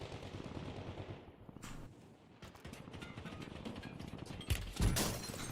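Gunfire in Call of Duty during a sniper engagement, dense bursts of shots throughout with sharper, louder cracks near the end, heard in continuous game action without talk.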